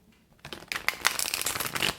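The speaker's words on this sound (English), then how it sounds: "So I'm going to start shuffling." Tarot cards being shuffled by hand, a brief quiet pause and then a close, crisp burst of rapid riffling and flicking that runs for over a second.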